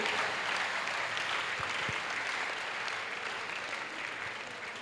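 Steady applause from a large audience, dense and sustained, fading slightly toward the end.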